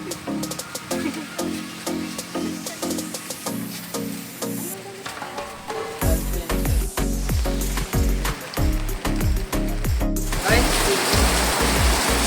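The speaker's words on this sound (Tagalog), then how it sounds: "talagang umulan na talaga, napakalakas to, silong muna tayo" Heavy rain pours down hard at Cagsawa Church in Albay, a loud, dense, continuous rush that grows even heavier partway through, with spattering and dripping throughout.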